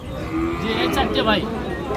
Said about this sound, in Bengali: তাহলে ক্রোসের ষাঁড়